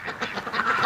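Several ducks quack in short overlapping bursts, fairly close, with the calls growing denser and louder toward the end; among them are black and white birds kept in a backyard flock.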